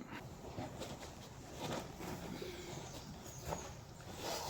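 Pigeons or doves nesting inside a Land Rover Defender 130 TD5 hi-cap under rebuild, heard as soft, faint cooing calls repeating over a steady background hiss, with no one speaking.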